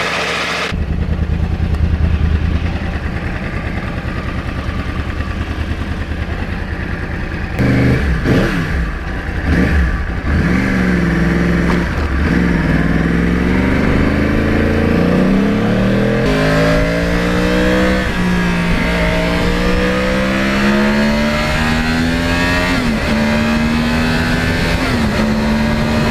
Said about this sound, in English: the sound of the cross plane, very different than a 1, 2, 3, 4, especially under full RPM or on heavy load